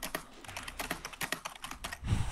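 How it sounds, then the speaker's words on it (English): Rapid clicking keystrokes on a computer keyboard, a steady close burst of taps that ends with a heavier low thump. "Dude, Bennett's keyboard is just..."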